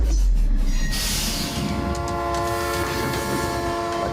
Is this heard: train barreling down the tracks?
yes